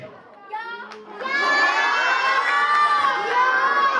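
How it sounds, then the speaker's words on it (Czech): A group of children shout out their votes together for a fairy tale in a classroom. The shouting swells into a loud, excited crowd roar after a quieter start with an adult voice. "abyste hlasovali, ale ne rukama, ale pokřikem"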